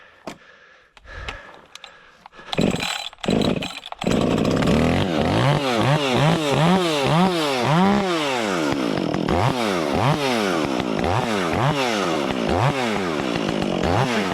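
A chainsaw cutting down a tree sputters in short bursts, then roars steadily close by, its pitch rising and falling over and over as the throttle revs and the chain bites into wood.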